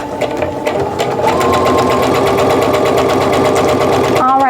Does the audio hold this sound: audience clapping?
no